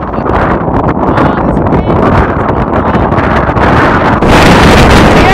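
Strong Patagonian wind with gusts up to 120 km/h roars into the microphone while cycling on gravel, a loud, unbroken rumbling buffet that intensifies near the end.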